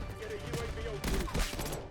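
AEK-973 rifle set to one-round burst firing in Black Ops 6, short clustered shot bursts in quick succession over game background sound, fairly close, with no talking.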